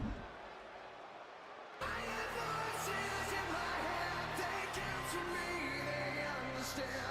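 Arena crowd noise in the wrestling video game WWE 2K25, a dense roar that surges suddenly to a louder, steady cheer with scattered whoops, with a commentator-style voice under it.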